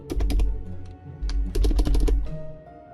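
Quick bursts of typing on a computer keyboard come in close, sharp clusters of key clicks separated by brief pauses, with no voices over them.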